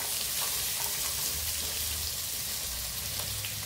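Cauliflower and potato frying in mustard oil, a steady dense sizzle that stays even and close throughout, with no voices and no break.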